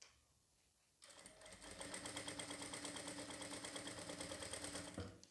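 A Jack F4 power sewing machine starts up after a quiet moment and stitches in a steady, fast mechanical whir with rapid needle ticking, close and loud, running for about four seconds before stopping.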